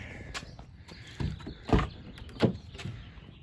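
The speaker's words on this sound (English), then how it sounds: "So the doors open and close perfect." The doors of a restored Acadia Green Subaru Impreza GC8 coupe are opened and shut several times, giving a run of thuds and latch clicks that build to a firm slam near the middle, with no talk.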